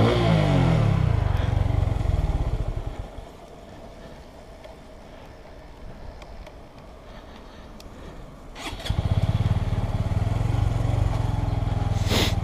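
Motorcycle engine revving up hard, a loud rising harmonic whine that falls back to a low idle for several seconds before roaring up again near the end.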